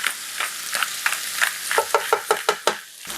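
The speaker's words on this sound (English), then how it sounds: "We're gonna get it going while Joe's stirring it up" Goulash ingredients stirred in a pot, with a steady sizzling hiss and a series of rhythmic scraping strokes that grow more distinct toward the end, close and fairly loud with no talking.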